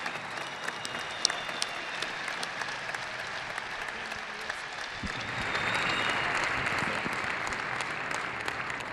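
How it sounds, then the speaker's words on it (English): Arena crowd at a Fort Wayne Komets versus Indy Fuel hockey game applauding veterans and Honor Flight volunteers, a steady wash of clapping throughout that swells louder in the final seconds, with a few sharper claps standing out. "Once again, please give a big round of applause for these veterans and Honor Flight volunteers."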